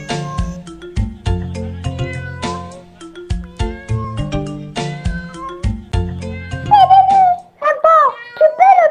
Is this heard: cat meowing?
yes